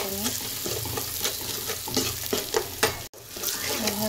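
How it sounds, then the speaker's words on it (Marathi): Chopped onion fries in a pan until browned, a close sizzle broken by repeated scrapes and clatters of a spoon stirring, steady and busy throughout with a brief dropout near the end. "तर कांदा आपण आता लाल होऊन देऊया चांगला"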